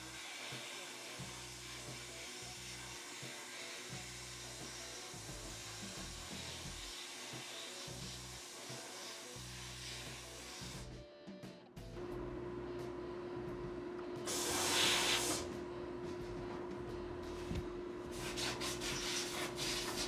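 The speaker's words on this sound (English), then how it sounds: "We're gonna be blasting this in a 120 aluminum oxide." Dry abrasive blasting of an engine component with 120-grit aluminum oxide in a suction blast cabinet: a steady, loud rushing hiss with a constant hum, growing harsher and brighter midway, with no talking.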